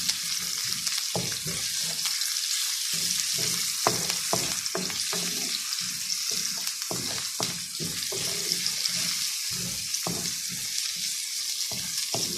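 Garlic sizzles and fries in a pan, with bursts of stirring, for a Filipino chicken dish cooked with coconut milk. The frying hiss stays loud and constant throughout, and no one speaks.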